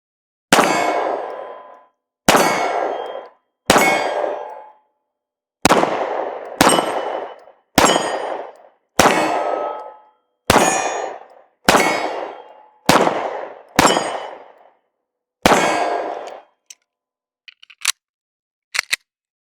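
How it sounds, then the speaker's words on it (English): Taurus G3C 9mm pistol fired at an outdoor range: a series of loud, sharp shots with ringing decay, spaced about a second or two apart, followed by a few fainter metallic clicks at the end. "right here at the range, Taurus G3C. First shots, first impressions."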